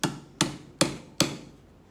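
A ball peen hammer strikes a center punch on a metal shovel head bolt four times in a steady rhythm, each hit a sharp, close, ringing metallic tap with a short decay.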